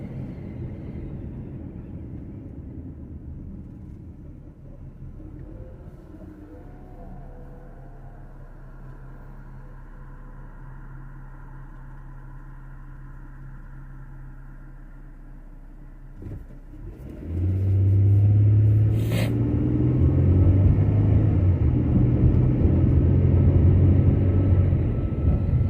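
A car on a short drive of a couple of miles to a health center: a low, steady interior rumble that swells into a louder engine surge as the vehicle accelerates partway through, with no talking.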